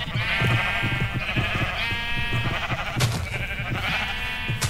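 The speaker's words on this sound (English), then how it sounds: "the perpetual sheep farm, because I can go in here with a pair of shears and never run out" Several Minecraft sheep on a sheep farm bleat in repeated overlapping baas, loud and close, with short gaps between calls and no talking.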